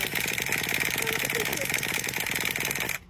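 A steady engine idles with a fast, even mechanical chatter, close and loud throughout, then cuts off abruptly near the end; the engine is poorly warmed up and low on fuel.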